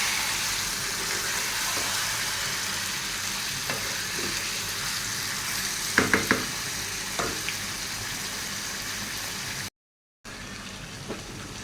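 Tomato cooks alongside a generous amount of meat in a pan, sizzling and frying steadily throughout, with a few louder clatters and stirring scrapes in the middle and a brief dropout near the end.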